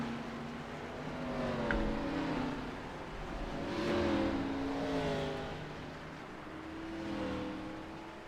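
Xfinity race cars rolling off pit road at Kansas for the pace lap, a steady engine drone swelling and fading in slow waves as the field pulls away at moderate volume.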